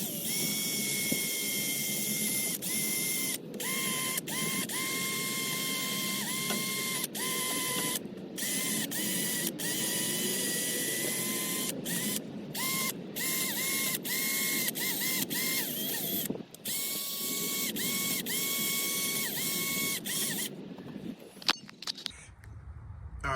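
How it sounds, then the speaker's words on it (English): A power wire wheel scours rust and grime from the wheel bearing bore of a hub assembly on a Buick, Cadillac, Chevy or Oldsmobile, giving a steady, loud, whirring grind for about twenty seconds, broken by brief pauses, before stopping near the end. "Get my wire wheel, get that cleaned out."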